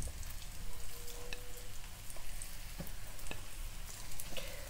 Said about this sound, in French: je les dépose délicatement dans la poêle. Et puis, je les laisse frire quelques minutes